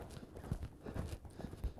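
An off-the-track Thoroughbred horse canters, its hooves giving soft, uneven muffled thuds in a loose rolling rhythm, faint and heard from a little distance, without talk.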